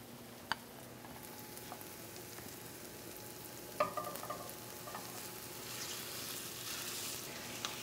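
Lamb sizzles in the centre of a pan beside pushed-aside vegetables for spiced stuffed eggplant, a faint steady frying hiss with a couple of sharp clicks and a brief clatter, swelling slightly near the end.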